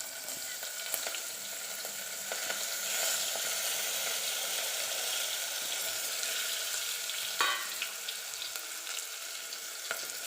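Capsicum, onion and tomatoes sizzle steadily in a hot pan with a bay leaf and dried chilli, a continuous close frying hiss with light stirring clicks.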